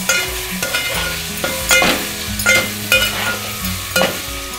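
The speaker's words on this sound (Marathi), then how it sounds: "आता आपण याच्यात भाज्या ॲड करूया, व्यवस्थित मिक्स करायचे" Vegetables being stirred into cooked tomato and onion for veg pulao, with repeated scraping strokes of a spoon against the pan over a continuous sizzle, close and fairly loud.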